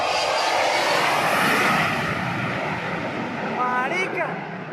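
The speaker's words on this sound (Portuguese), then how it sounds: "727 da companhia Aerosucre tentou decolar do aeroporto de German Orlan, na cidade de Puerto Carreño" A Boeing 727 cargo jet of Aerosucre attempting takeoff from the airport at Puerto Carreño, a loud, sustained broadband engine roar heard close from the runway end, with people's voices rising over it near the end.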